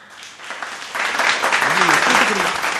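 Audience applause fills the hall at a Tamil pattimandram debate on joint versus nuclear families in Thiruvottiyur, a broad steady crackle of many hands that swells after the first half-second and holds strong, with some voices mixed in.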